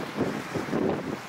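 Wind gusts during a nor'easter storm on a calm coast, buffeting the microphone in a short rough roar that swells twice.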